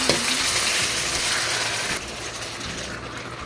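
Beef sizzles loudly as it is sautéed in a pan on medium heat for a cheesy caldereta, a dense, steady hiss close up that eases slightly partway through, with no voices.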